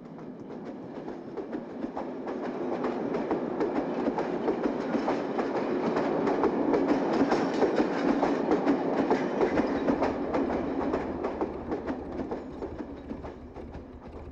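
A train passes by with a steady rumbling roar and faint clickety-clack of wheels on rails, swelling to a peak midway and then fading, heard alone without talk.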